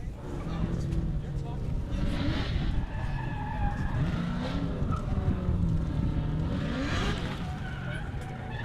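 A powerful drift car at Sebring Raceway during Formula Drift ProAM qualifying: a roaring engine rises and falls as the tyres screech through long skids, heard over steady wind buffeting with a commentator talking throughout.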